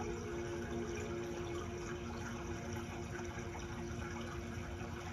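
A steady, rushing water roar, constant and unbroken with no pauses, heard alone and fairly faint.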